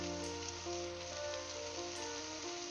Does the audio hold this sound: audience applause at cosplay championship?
no